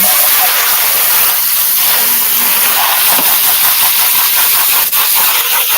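A garden hose sprays water onto pool filters to wash the dirt off them. It makes a loud, steady, close hiss that runs without a break and with no voices.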